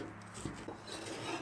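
A knife slices lean pork into strips on a cutting board, giving soft, quick taps and scraping strokes up close, with no one talking.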